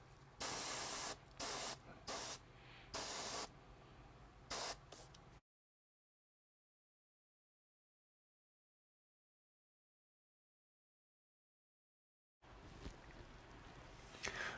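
An airbrush sprays a thinned paint and IPA base coat onto a model boxcar, hissing in steady close bursts with short breaks, then cutting out into silence before the hiss resumes.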